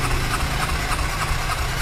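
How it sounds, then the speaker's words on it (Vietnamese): A used Suzuki Impulse fuel-injected motorbike engine idles steadily at close range, a continuous low rumble with no talk over it. "xe trong này nó nổ máy"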